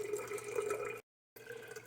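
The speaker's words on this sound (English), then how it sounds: "I'm turning on my water now, my Kangen water machine." A Kangen water machine runs plain filtered water into a container: a steady rushing, splashing flow that cuts out briefly and then resumes, close and fairly quiet.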